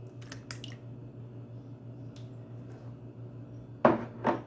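Cake batter of creamed butter, sugar and eggs being beaten in a bowl for a layered jam cake: a steady low whir with soft scattered taps, then two louder knocks near the end.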